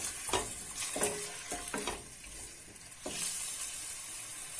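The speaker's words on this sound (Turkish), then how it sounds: "Parçalanmaması için sebzeleri ve tavuk göğsünü mini bir sote şeklinde azıcık kavuracağız." Vegetables and chicken breast sauté in a pot for a soup, giving a steady close sizzle with several distinct stirring scrapes and clacks spread through the stretch, and no voices.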